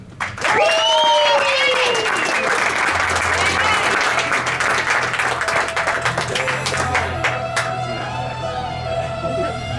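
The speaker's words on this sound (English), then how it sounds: "I want you guys to give a nice round, loud cheer for Manny Aragon." A loud, close crowd at a motivational speaking event bursts into cheering and applause that holds for about ten seconds, with whoops and shouts early on, then slowly thins. Voices call out throughout.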